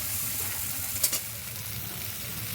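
Boiled taro root (kochu mukhi) frying with a little turmeric and salt gives a steady, close sizzle with a soft stir or clink partway through, and no one speaks.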